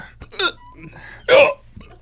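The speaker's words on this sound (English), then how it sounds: "The hiccups have started." A couple of short, sharp hiccups brought on by eating a Carolina Reaper chilli pepper, jolting out amid light talk.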